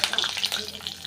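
Whole garam masala spices and bay leaves sizzle in hot ghee for pilaf, a steady close crackle with brisk popping bursts and no voices.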